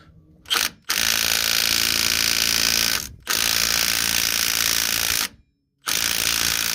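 A Milwaukee M18 Gen 2 mid-torque impact wrench hammers on a bolt at a salvage yard, giving loud, sustained rattling bursts separated by short pauses.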